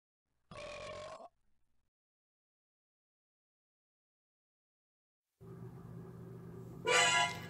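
A single loud, throaty burp after a Thanksgiving meal, lasting under a second, followed by silence and then a separate stretch of background noise.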